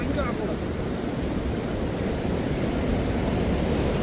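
Steady rushing floodwater roars continuously at close range, a broad, even wash of noise with no pauses, during heavy rain in Kilinochchi.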